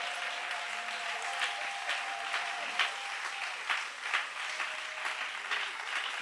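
A church congregation applauds in steady, rhythmic clapping that keeps going with swelling peaks, with a faint sustained tone beneath and no voices standing out.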